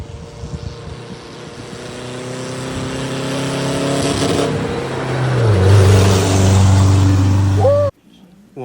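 A car engine rises steadily in pitch as it accelerates and revs hard for several seconds, loud and close, then cuts off abruptly.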